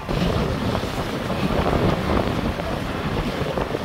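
A sailboat under way at 17 knots with a small genoa, sailing toward Summerside, Prince Edward Island, heard as loud, continuous wind buffeting and rushing water against the hull, close and steady with no voices.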